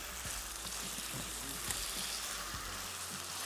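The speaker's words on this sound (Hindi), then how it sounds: "लहसुन जब थोड़ा सा पक जाए तो चिकन के पीसीस को अच्छी तरीके से फ्राई कर लेंगे" Chicken pieces frying in oil with garlic: a steady, dense hiss of sizzling oil fills the whole span, close and even, with faint low knocks of stirring underneath.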